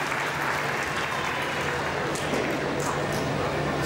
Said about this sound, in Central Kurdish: قوتابیەکان لێرەنە بە چەپڵەیەک سوپاسیان بکەین